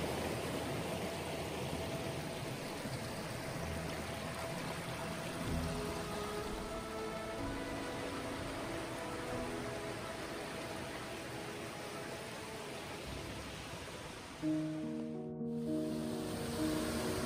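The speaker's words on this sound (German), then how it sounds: "Der Bachlauf der großen Bode ist von kleinen Wasserfällen und Fallstufen geprägt" Mountain stream Große Bode in the Harz near Braunlage, tumbling over small waterfalls and drops: a steady, broadband rush of water close by, continuous throughout with faint tonal hum underneath.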